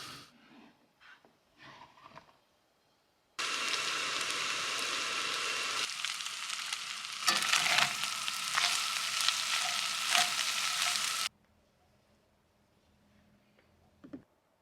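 Zucchini, onion, hot pork sausage and beef with herbs fry in a pan, starting with a few faint clinks, then a steady, close sizzle that swells midway and stops suddenly, followed by quiet.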